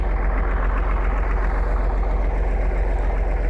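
A tractor works a level field with a steady, dense engine drone and low rumble that stays constant throughout, with no voices.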